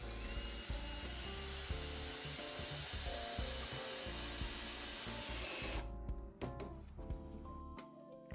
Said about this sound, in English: you can screw the ladders to the supports.